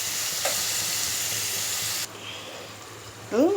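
Onion fries in a pan with coriander and cumin powder, giving a steady close hiss and sizzle that drops in level partway through, with a brief stir near the end.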